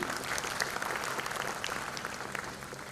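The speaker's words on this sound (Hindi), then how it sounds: "इनके लिए जोरदार ताली बजनी चाहिए।" An audience at the Patrika KeyNote 2025 event in Bhopal breaks into hearty applause, a dense, continuous wash of many hands clapping at steady volume throughout.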